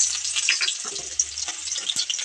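Chopped onion and a dried chili hitting hot oil, a dense crackling sizzle with scattered pops and a few clinks of stirring, close and fairly loud, no talk.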